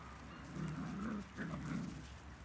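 Young schnoodle puppies playing hard in a yard, giving short whimpers, yips and growly little vocalizations at close range, in a couple of brief bursts.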